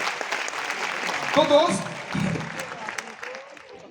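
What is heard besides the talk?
audience applause for first-time guests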